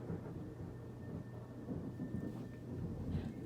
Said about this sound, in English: Did y'all just hear that lightning?